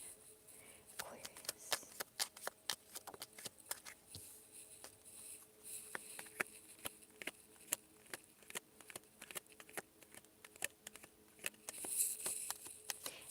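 Tarot cards are shuffled and drawn, making a quick series of soft flicks and snaps with rhythmic card slaps, faint and close, continuing throughout with a slight rustle near the end.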